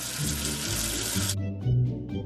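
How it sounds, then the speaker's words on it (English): Water splashing over a soapy letter in the Baby Panda learning game: a steady cartoonish faucet gush for over a second that then cuts off, followed by soft bubbly tones and a brief chime. "Wash away the soap with water."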